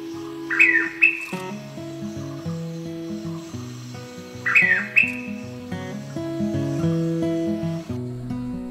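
A blue pitta gives two loud, clear whistled calls that cut off abruptly, several seconds apart, over soft background music.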